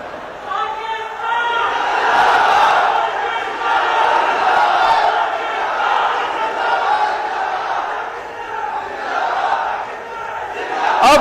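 A large crowd at a public speech chants a slogan in unison, loud and reverberant with swelling voiced phrases that rise and fall across the whole stretch.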